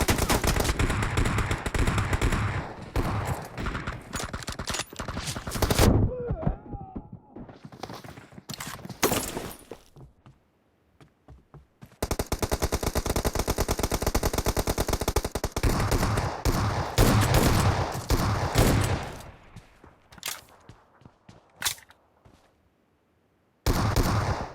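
Shotgun fire in a PUBG Mobile team deathmatch: loud, dense bursts of rapid gunshots come in long clusters separated by brief quiet gaps, with no talking.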